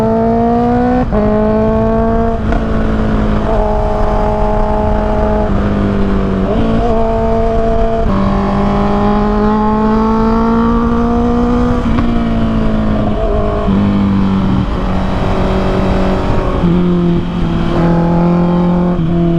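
Honda CBR 650R inline-four motorcycle engine revving loud and close, its steady tone climbing and dropping through repeated throttle blips and gear changes, heard alone with no talking.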